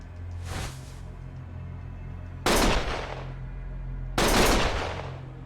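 Three loud gunshots ring out in a video game, each a sharp blast followed by a long echoing decay, spaced about two seconds apart with the later two heaviest.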